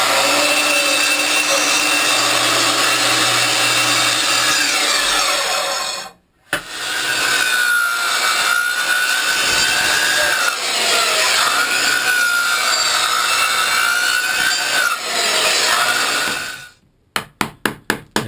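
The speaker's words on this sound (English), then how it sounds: "you got to take a circular saw and cut this out" Circular saw cutting wood for an Appalachian fire shovel, a loud continuous whining cut with a short break, then a long second pass and a few sharp knocks at the end.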